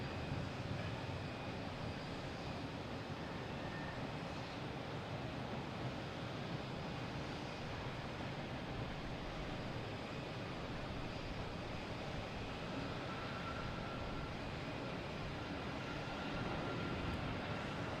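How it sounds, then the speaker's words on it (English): An American Airlines Boeing 737 from Chicago arriving at Boston Logan Airport, a steady broad jet roar heard from a distance that holds constant throughout, with no talking. "we have an American Airlines coming in"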